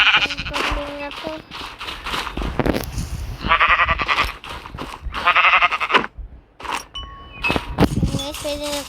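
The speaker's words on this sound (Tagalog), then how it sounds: "Patayin natin yung kambing na to." Goats bleat repeatedly in Minecraft, loud and close, in short wavering bursts separated by brief pauses, with faint clicks and game sounds in between.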